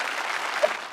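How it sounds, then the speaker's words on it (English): A short burst of applause plays as a sound effect during a live geography quiz game, a steady even wash of clapping at moderate volume with no voices over it. "I think I have an applause sound."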